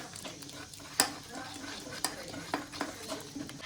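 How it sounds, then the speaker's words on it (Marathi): Besan gram flour batter with buttermilk being stirred in a bowl for kadhi, a soft continuous swishing broken by a few sharp clinks of the spoon against the rim, heard up close. "आपण ढवळून घेऊया. ताक टाकलं ना. ताक टाकलं ना. मिक्स करता."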